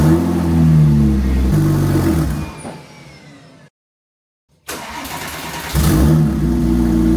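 A Porsche 911 Turbo engine cranks and runs with a loud, uneven idle that sags, drops to near silence as it stalls for about a second, then catches again and settles back into a rough, steady rumble.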